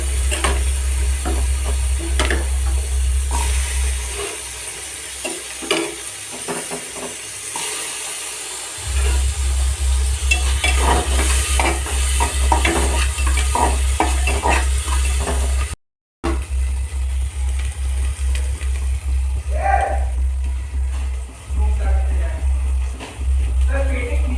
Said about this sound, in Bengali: পেঁয়াজটা ভাজা ভাজা হয়ে গেছে এবার আমি টমেটো কুচিগুলো দিয়ে দিলাম